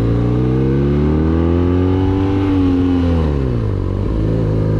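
Motorcycle engine heard close while riding, a loud smooth rumble with rising and falling pitch as the rider accelerates and eases off.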